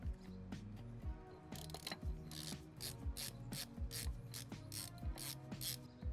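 Steady ratchet clicking while tightening the final lock nut on a Dana 60 wheel hub, repeated rhythmic pawl strokes with metallic ratcheting, close and fairly loud with no talk.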